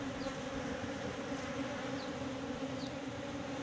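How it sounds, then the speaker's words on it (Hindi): A honeybee swarm buzzes inside a bucket, making a dense, unbroken drone that stays close and loud from start to finish, with no voices. "मधुमक्खियाँ बाल्टी को नहीं छोड़ रही है"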